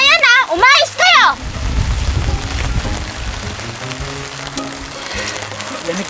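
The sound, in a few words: heavy rain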